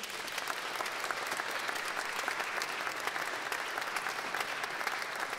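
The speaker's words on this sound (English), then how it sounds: "If we could just give them another round of applause for their hard work." An audience at the Milwaukee Art Museum applauds band students after a performance, a thick continuous roar of many clapping hands that holds evenly at full strength.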